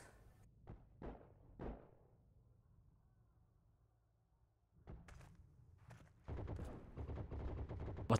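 Scoped Karabiner 98 Kurz rifle fire in the online war game Heroes & Generals: a few sharp, separated reports with fading tails early on, then a quiet stretch, followed by dense, continuous gunfire near the end.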